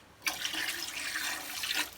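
Tap water runs steadily into a cooking pot, filling it to steam Bajan conkies; a continuous close hiss and splash starts abruptly and stays even throughout, with no talking.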